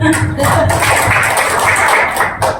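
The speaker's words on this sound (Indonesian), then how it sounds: "Tepuk tangan dulu." Audience applause breaks out at a talk or sermon, a dense patter of many hands clapping close by, with voices mingling in, fading slightly near the end.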